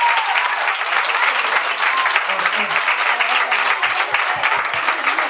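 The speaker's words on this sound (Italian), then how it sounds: "Un applauso più forte" Live audience applause at a concert, dense continuous clapping close and loud throughout, with a few low thumps near the end.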